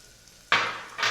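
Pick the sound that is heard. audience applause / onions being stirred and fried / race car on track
onions being stirred and fried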